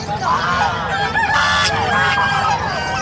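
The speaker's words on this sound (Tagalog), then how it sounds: "Ito gansa." Geese honk repeatedly in a busy outdoor pets and livestock market, the calls overlapping with other fowl and a steady crowd murmur close to the microphone.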